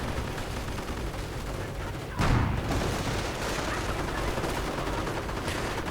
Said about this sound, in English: Another squad down, although the 50 caliber suppresses.